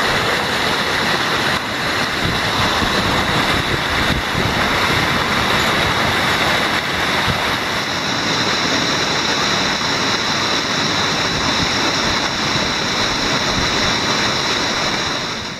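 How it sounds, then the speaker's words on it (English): A steady, full roar of water crashing down a waterfall on a canyoning descent, loud and close, continuous for the whole stretch with no voices. "Abseiling down a waterfall."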